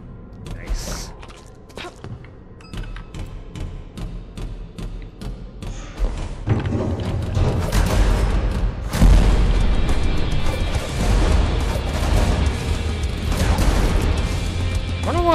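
Explosive chakrams thrown in the retro shooter game Nightmare Reaper stick and detonate, with a run of rapid thuds and booms that swell into heavy continuous explosions, loud throughout.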